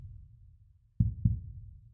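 A slow heartbeat pulses in a relaxation hypnosis track, two soft, deep thumps close together that stand out over a low, quiet background murmur.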